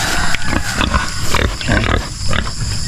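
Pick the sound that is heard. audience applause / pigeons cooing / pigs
pigs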